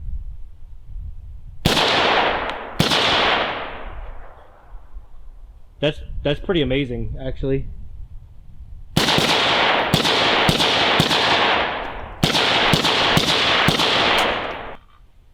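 Suppressed AR rifle shots in 5.56 through a Dead Air Sandman K silencer: two sharp cracks, someone speaking briefly, then two quick bursts of four or five loud, close reports, each with a short ringing tail.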